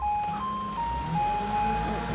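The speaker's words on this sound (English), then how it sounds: "Rubbish truck picking up all the bags of rubbish" A Japanese rubbish truck collecting bags of rubbish on a street plays a bell-like melodic jingle, clear and fairly close, over a low engine rumble.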